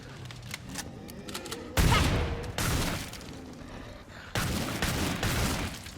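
Gunfire in Killing Floor 2 as enemies are shot: dense bursts of loud, crackling shots that come in heavy waves, some with a boom beneath, with faint clicks between the volleys.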